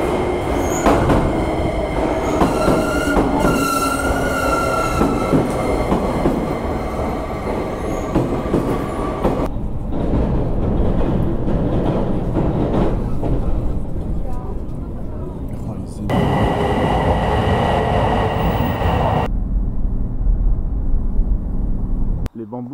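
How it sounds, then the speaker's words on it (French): A Sonic express train rides through Kyushu, Japan: a steady, loud onboard rumble of rolling wheels and rail noise fills the whole stretch, with tonal whines and squeals, and speech is heard over it. "on va rejoindre Yukuashi avec le Sonic Train"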